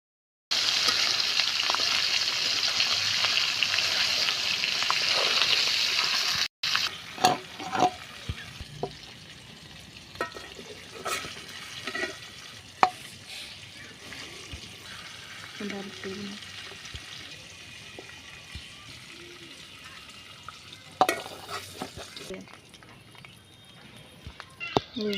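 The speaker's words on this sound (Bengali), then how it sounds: "ফোড়ন দিয়ে দিলাম, আমরা এইভাবেই দিই।" Whole spices crackle and sizzle loudly in hot oil for several seconds, then a sharp cut gives way to quieter intermittent stirring clicks and softer frying hiss, with occasional louder scrapes near the end.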